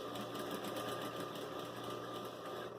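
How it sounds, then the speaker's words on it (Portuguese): A sewing machine stitches denim fabric slowly and steadily, giving a continuous, even mechanical whir with fine rapid needle pulses at moderate loudness. "vai levantando o pezinho da máquina e vai costurando"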